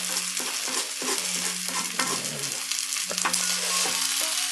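A metal spatula stirs and scrapes food in a Chinese wok over a gentle sizzle, rhythmic scraping strokes sounding close and distinct, with occasional clanks against the pan and no talking.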